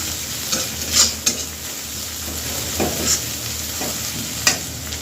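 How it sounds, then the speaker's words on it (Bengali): Onions fry with salt in a pan, a steady sizzle running underneath, with a few sharp spatula clinks and stirring scrapes scattered throughout, close and alone with no voices. "পেঁয়াজটা একদম লাল লাল করে ভেজে নেবো আমি"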